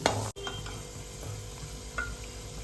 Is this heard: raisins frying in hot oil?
yes